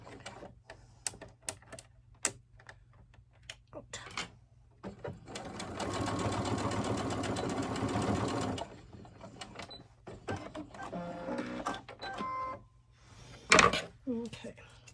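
A sewing machine stitches fabric in a single burst of several seconds amid scattered handling clicks and taps, close by, with occasional quiet speech around it.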